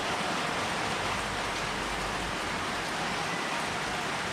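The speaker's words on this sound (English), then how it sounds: "just love sitting here when it's pouring it down with rain" Heavy tropical storm rain pours down in Naga City in the Philippines, a dense, unbroken roar of downpour that holds steady and loud throughout.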